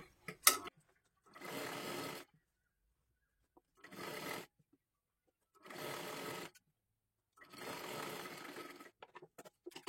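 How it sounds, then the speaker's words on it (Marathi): A sewing machine stitches a long one-piece dress for a young girl, running in four separate bursts of steady whirring, each one to two seconds long, with short quiet pauses and faint handling clicks between them. "इथे आपण पूर्ण शिलाई मारून घेतली"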